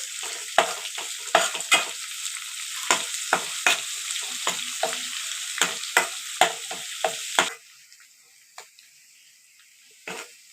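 Ginger garlic paste frying in oil left over from frying chicken, a steady sizzle with repeated scraping stirs of a spoon in the pan, the sizzle dropping sharply near the end with a couple of last strokes.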